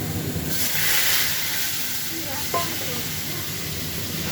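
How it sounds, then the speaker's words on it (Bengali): Pointed gourd (potol) frying in a pan, giving a steady broadband sizzle and hiss with a faint clink near the middle and no speech. "তারপরে যে পটল ভাজা করছি"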